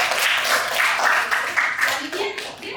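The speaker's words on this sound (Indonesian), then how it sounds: "Baik, tepuk tangan dulu." Classroom audience clapping after a presentation, a dense patter of applause from many hands lasting the whole stretch, with a voice speaking over it.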